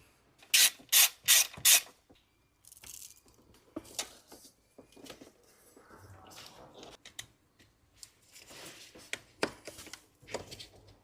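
Ratchet clicking while a 13 mm fastener is undone on top of a BMW 3 Series alternator, opening with quick loud bursts, then lighter scattered clicks and metal handling close by.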